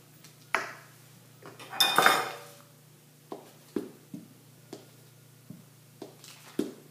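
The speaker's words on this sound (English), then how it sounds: "First of all, I will cut my butter up and put it in the microwave for a few seconds to melt down" A knife cuts up butter on a hard surface, giving a few sharp clicks and taps against a plate or board, plus one longer scraping rustle, all close and quiet with no talking.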